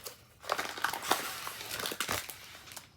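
Plastic packaging from a Distracted by Diamonds diamond painting kit crinkles and crackles as it is opened, a close, busy series of rustles lasting a few seconds.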